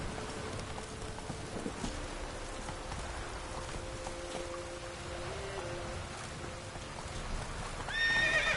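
Horse hooves clopping steadily through steady rain in The Witcher 3: Wild Hunt, with occasional whinnies and a continuous wet hiss beneath, a sharper swell rising near the end.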